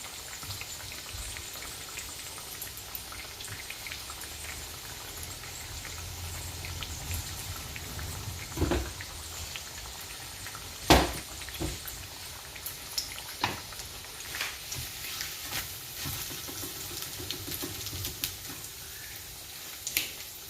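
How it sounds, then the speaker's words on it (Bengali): Chicken cutlets fry in a pan with a quiet, continuous crackling sizzle and a few sharper pops, steady and low throughout. "এখন ভাজা হয়ে গেল আমার।"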